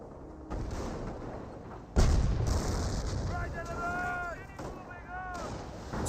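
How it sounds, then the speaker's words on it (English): An artillery barrage in the video game Company of Heroes, with heavy booming impacts and rumbling blasts, one sharp loud hit near the middle, alongside voices and whistling tones. "Officer artillery now raining on in."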